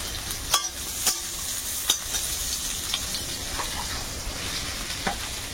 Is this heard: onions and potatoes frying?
yes